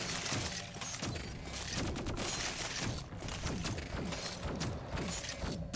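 Heavy gunfire blasts steadily from guns in the video game Dolmen, a dense, loud barrage of shots with crashing impacts that keeps going without a break.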